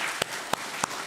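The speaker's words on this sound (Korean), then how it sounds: "감사의 박수" A church congregation at a Sunday service in Oakland gives a few sharp, isolated claps, three distinct hand claps spaced evenly apart over a quiet room.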